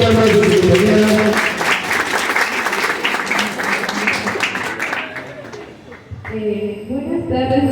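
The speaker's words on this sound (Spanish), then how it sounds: "Invitamos con dos palmas de su compañera." A school debate audience applauds a student competitor, a dense wash of clapping that fades toward the end before a voice begins speaking.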